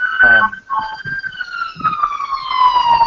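A police siren wails through the streets of New York, a loud, gliding tone that slowly falls in pitch, with people talking over it.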